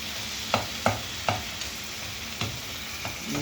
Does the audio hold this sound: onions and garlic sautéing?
yes